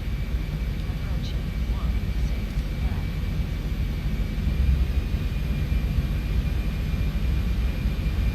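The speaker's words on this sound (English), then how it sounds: "runway 16 right, cleared for takeoff. Clear for takeoff and rolling" Qantas Boeing 737-800 jet engines rumble steadily on the takeoff roll in the X-Plane 11 flight simulator, a broad continuous roar with a thin whine, building slightly midway.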